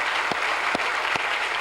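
An audience applauds Lee Kuan Yew at an evening talk, a steady wash of many clapping hands with a few sharper individual claps standing out.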